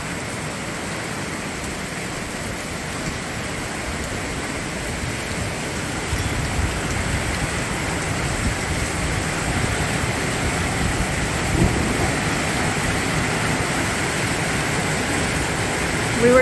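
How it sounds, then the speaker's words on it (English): Steady, dense rain pours over an open sheep pasture during a summer thunderstorm. The hiss is continuous and fairly loud throughout, with only a faint low rumble briefly rising past the middle and no distinct thunder crack. "now we got thunder and lightning"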